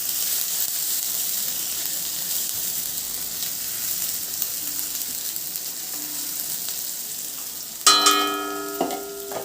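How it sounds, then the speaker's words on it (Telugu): Chopped garlic and chillies frying in oil for garlic rice, a steady close sizzle with no talk, ending in a few sharp clinks of a utensil against the pan. "ఫ్రై చేద్దాం ఇప్పుడు ఫస్ట్ ఇవి."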